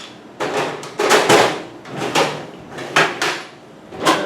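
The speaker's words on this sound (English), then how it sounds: "then you use a hammer on this side" A hammer striking a bicycle bearing cup pressed with a homemade bottom bracket and headset press, giving a series of separate sharp knocks and thuds at an uneven pace, close and fairly loud.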